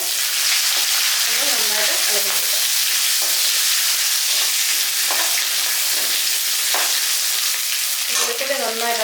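Finely chopped garlic, five or six cloves, fries in hot oil in a home kitchen, giving a steady, loud sizzle and hiss throughout with occasional stirring scrapes and brief faint voice sounds in the background.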